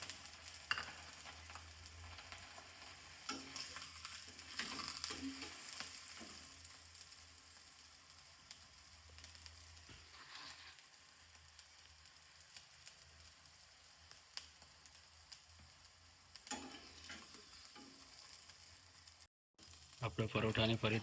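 Aloo paratha frying in oil on a pan in a village home kitchen, a steady soft sizzle with occasional louder crackles and a few scraping or flipping clatters, under intermittent talk.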